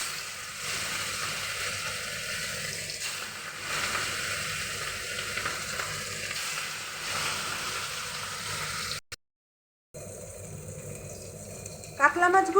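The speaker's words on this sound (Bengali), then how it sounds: "এবার কাতলা মাছগুলো আমি ভেজে নেব" Katla fish frying in hot oil in a home kitchen gives a steady, close sizzle that runs without a break and then stops abruptly near the end before a brief harsher crackle.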